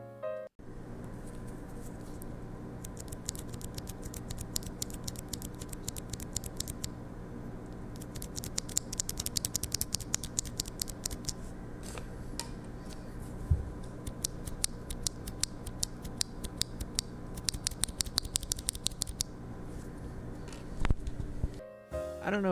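Steady clicking and clacking of stock mechanical keyboard switches on a GMMK Pro, deep and tactile, fast rapid bursts of typing with short pauses, close and fairly quiet.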